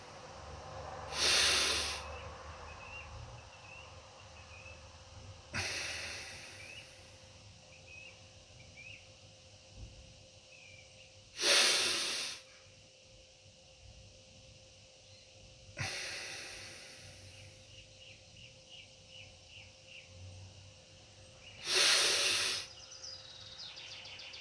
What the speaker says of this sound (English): Breathing out, following the flow pacer.